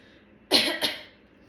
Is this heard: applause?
no